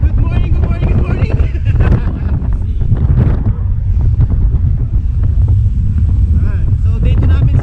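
Loud gusty wind buffeting the microphone outdoors beside a car on an overland trip to Davao, a constant roar with voices faintly mixed underneath.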